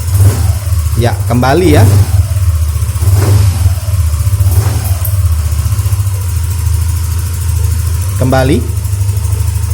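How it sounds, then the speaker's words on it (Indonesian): Yamaha Nmax Neo S scooter engine idling close by, with several short throttle blips rising and falling over a steady low rumble, while someone speaks briefly. "Oke, mesin sudah dinyalakan. Sekarang kita akan coba tarik gas pelan-pelan aja."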